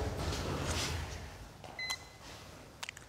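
A digital thermometer gives a couple of short, faint electronic beeps near the end, following a stretch of soft rustling and broadband noise.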